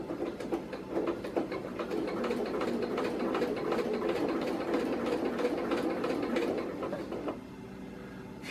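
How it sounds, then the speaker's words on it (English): A sewing machine runs steadily, its rapid rhythmic stitching clatter continuous and fairly close, slowing and quieting briefly near the end. "use the sewing machine even a little bit"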